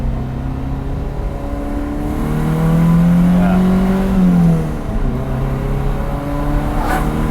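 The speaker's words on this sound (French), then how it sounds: "J'ai ouvert la fenêtre, vous allez profiter du son du moteur." Lancia rally car engine heard through an open window on a country road, a steady throbbing drone that swells into a louder rev midway before settling back, with no talking.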